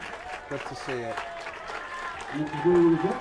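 Crowd applause at a high school football game spreads faintly through the stands beneath an announcer's ongoing commentary, a soft steady wash that swells slightly near the end.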